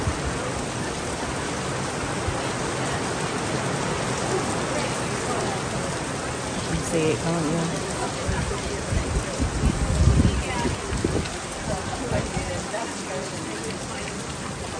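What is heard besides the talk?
rain pouring down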